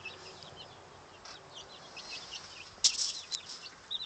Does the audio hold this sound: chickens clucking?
yes